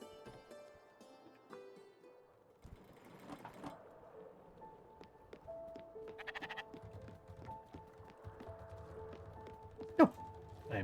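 A sheep bleats in the video game Spiritfarer, a few short cries over soft tonal game music with faint chimes and a sharp click near the end. No one talks.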